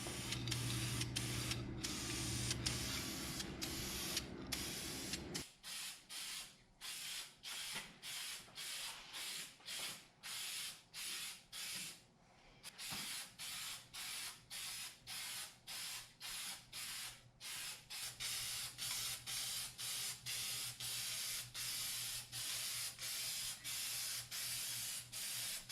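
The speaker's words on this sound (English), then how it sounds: "So I got to paint, so I got one coat of paint on the wheels." Bursts of spray paint hiss steadily as the wheels of a John Deere grain drill get coated, one short blast after another in a regular rhythm, close by with no talk.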